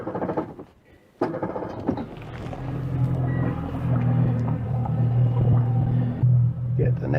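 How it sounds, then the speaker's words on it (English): A boat engine on Lake Nipigon starts up after a brief pause, then settles into a steady low rumble that runs loud and close to the end. "get the engine started."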